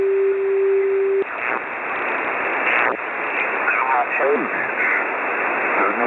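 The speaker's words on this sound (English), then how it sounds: "Sounds like there's a beacon with some extra going on in there." A steady radio beacon tone received on a software defined radio hums through band-limited static for about a second, then cuts out, leaving hissing radio noise with faint warbling sweeps.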